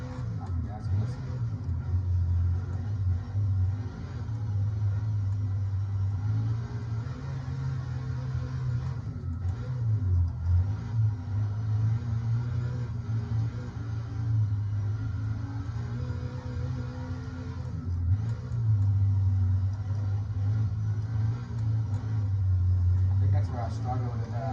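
Sprint car engine lapping a fast dirt half-mile track, a steady loud droning rumble with rises and dips in pitch as the throttle is worked, under continuous talking throughout.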